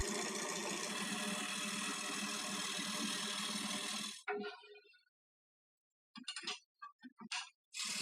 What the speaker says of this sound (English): I got this old lathe from my uncle, and I love it. Now let's get it roughed down.